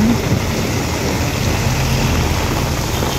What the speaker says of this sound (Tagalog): Napakalakas ng ulan ngayon.